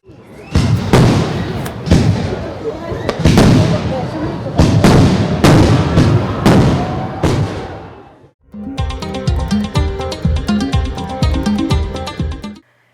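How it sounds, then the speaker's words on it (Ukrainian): Rapid, loud fireworks at the end of a concert: booming bursts crackle and thump one after another, then a stretch of music with dense ringing tones and continued pops. "на завершення концерту відбувся святковий феєрверк"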